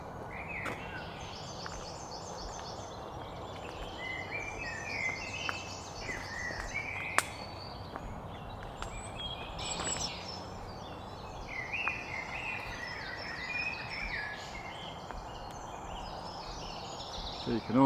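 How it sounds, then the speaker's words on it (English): Birds sing and chirp in a forest, many bright calls layered and repeating over a quiet outdoor hush, fairly faint and at a distance, with a few sharp clicks. "So you can half hear some birds singing out here."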